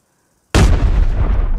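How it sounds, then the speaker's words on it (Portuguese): A sudden loud blast of grenade and gunfire bursts in the shooter game Arena Breakout, booming after brief silence and rumbling on with a heavy decaying tail. "pode jogar a granada"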